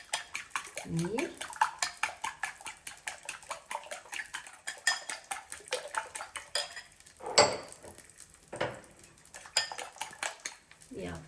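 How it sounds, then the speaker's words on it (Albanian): Fork rapidly clattering against a bowl while eggs are beaten for breakfast tortillas, a quick steady ticking rhythm with occasional louder knocks, close and clear. "Ju hedhim pak krep vezëve dhe i rrahim një piron kështu, i tundim."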